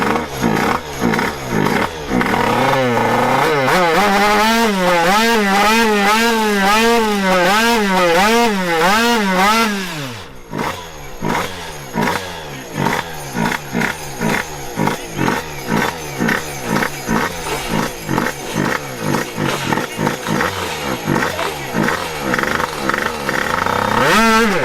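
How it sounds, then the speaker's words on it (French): A racing scooter engine revs hard during a run at a competition in the Netherlands, with loud, rising and falling high-pitched wails, a sharp drop mid-way, then repeated choppy bursts of throttle. "Bon, le scooter remarche."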